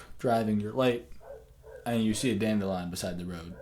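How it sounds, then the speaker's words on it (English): Dog barking in the background of an indoor conversation, a few sharp barks and yips mixed under steady nearby talk. "Sorry about the dog in the background."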